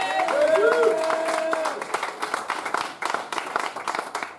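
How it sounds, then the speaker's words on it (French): A church congregation claps and cheers in praise, a steady run of applause lasting a few seconds while a voice carries over it at the start. "On peut acclamer le Seigneur."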